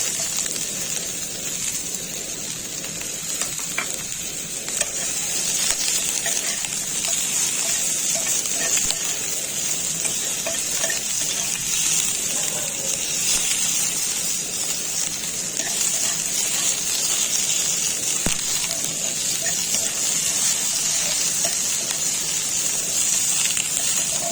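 Onion, tomato and capsicum fry in a pan, making a continuous close sizzle and hiss with occasional stirring scrapes that goes on evenly for over twenty seconds.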